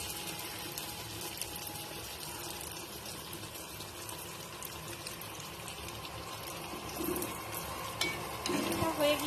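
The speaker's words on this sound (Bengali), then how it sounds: "আমি ডো দিয়ে দিব তেলের মধ্যে।" Pan pitha dough frying in hot oil: a continuous, even bubbling sizzle close by that grows somewhat louder near the end, with a faint voice in the background.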